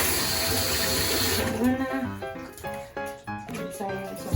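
Tap water runs steadily into a half-filled portable washing machine being loaded with a small batch of baby clothes, a continuous close splashing flow, with someone talking briefly over it midway.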